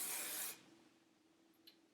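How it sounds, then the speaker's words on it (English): An aerosol can of hairspray hisses in one short, steady burst of spray onto hair, fairly close, lasting about half a second before cutting off into quiet room tone with a faint small click afterward. "so I'm gonna give it another quick spray"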